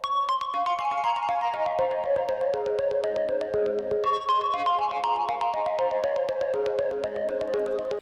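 A bright lead synth built in Vital from a sine wave with 13-voice unison plays a busy, plucky melodic line, each note sharp at the start, running continuously and loud over a full chill-house mix with no voices.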